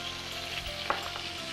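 Garlic sautéing in a pan, a soft close sizzle with one brief clink of a utensil, short and quiet.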